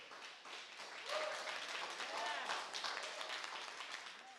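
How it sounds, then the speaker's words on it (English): Audience clapping at a skilled trades task force meeting, a moderate, somewhat distant round of applause that swells and then tapers off, with voices mixed in. "Can we give them a round of applause"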